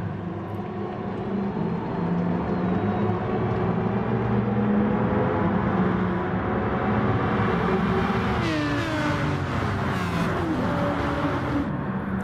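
Group 3 race car engines rumbling together through a rolling start at Monza in a racing video game, a dense steady drone of many engines with rising revs near the end, loud and continuous.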